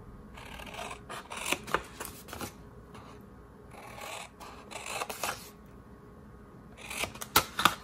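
Scissors snip through craft panels for a Halloween decoration, a quiet close series of crisp cuts and paper rustles in short bursts with brief pauses between.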